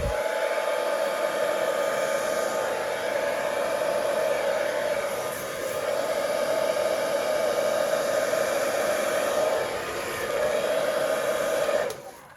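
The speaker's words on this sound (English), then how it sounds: "I'm going to use my hairdryer to blow this part out." A hairdryer blows steadily over wet acrylic paint in a fluid-art pour, a loud constant whooshing roar that dips briefly twice and then cuts off at the very end.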